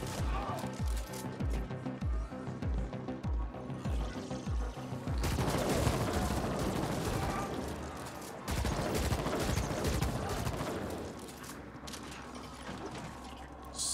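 Rapid gunfire from shooting in The Ascent video game: bursts of fast repeated shots, then dense sustained automatic fire with crashing impacts, loud and close, with occasional talk beneath.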